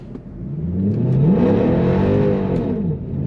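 A Mercedes W204 C63 AMG launches hard from a standstill, its engine revving up in a loud, close, rising then falling sweep with a whirring edge, heard alone without talk.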